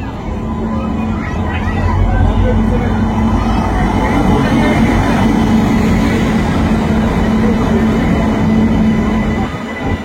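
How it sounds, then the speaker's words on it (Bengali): The Tatanagar–Amritsar Jallianwala Bagh Express makes a loud, steady rumble of rolling wheels and carriage noise, heard close up from beside or aboard the train for the whole stretch. "টাটানগর থেকে আমরা নেব টাটানগর অমৃতসর জালিয়ানওয়ালাবাগ এক্সপ্রেস।"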